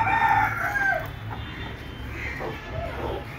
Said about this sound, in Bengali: দেখেন এটা হচ্ছে মোরগ, ওর প্রায় 4 বছরের উপরে বয়স হয়েছে।